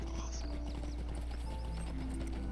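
Rhythmic hoofbeats of a horse in the video game The Lord of the Rings Online clop along under a dense wash of orchestral music, steady and fairly quiet.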